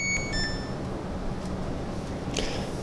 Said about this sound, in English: you can hear it's beeping, that it tells you it's in this mode right now.